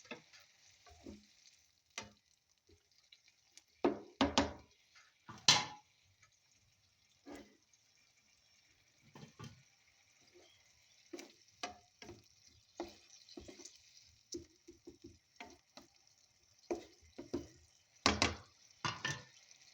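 Sarciadong bangus, milkfish cooking in a pan after a little water is added, gives scattered stirring scrapes and soft sizzling bursts, clear and close, with no talk.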